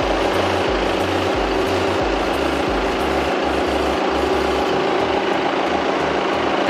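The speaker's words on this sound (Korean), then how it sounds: "엔진 소리 일정하고 좋습니다" A used Audi Q5 35 TDI quattro diesel idles with the hood open, a steady low rumble with a regular pulsing rhythm, recorded close and alone without talk.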